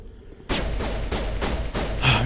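Rapid, booming shotgun blasts from the video game Mass Effect Legendary Edition, four or five heavy shots in quick succession, loud and close.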